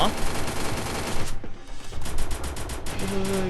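Rapid automatic gunfire from the battle royale game Free Fire, loud bursts crackling almost continuously with a short lull in the middle, while a voice talks over the shooting.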